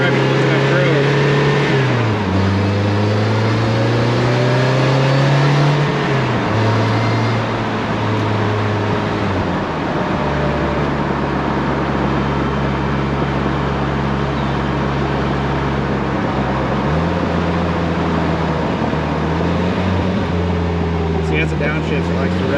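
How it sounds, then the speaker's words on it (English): Inside a 2020 Slingshot R, the engine drones loud and steady as it climbs and then drops in stepped pitch jumps while downshifting, a continuous close cabin roar with someone talking over it. "As it downshifts, it likes to rev up and really does not feel too bad."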